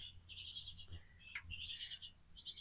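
Small birds call from a nest near an A-frame cabin in Qusar, repeated high chirping bursts in quick series, faint and close, with no talk.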